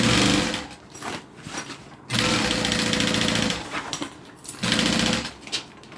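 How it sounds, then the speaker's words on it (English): A home sewing machine runs a stay stitch along a zip-around wallet, its motor whirring in three bursts separated by short pauses, fairly close and steady during each run. "I'm going to go ahead and do a stay stitch"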